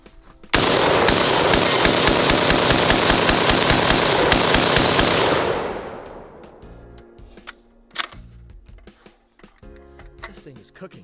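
Sustained rapid automatic gunfire from a weapon in the video game Ready Or Not, loud and continuous for about five seconds before fading into quieter clicks and handling noises, with someone talking.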